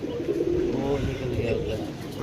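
Pigeons coo in low, rolling bursts at close range through the whole stretch, with a voice mixing in over the birds.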